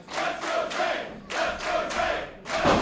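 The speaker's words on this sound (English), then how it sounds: "you hear all these people chanting for you, cheering for you" A wrestling crowd chants in rhythmic surges and cheers, loud and dense, with each swell of voices rising and falling several times before a final burst.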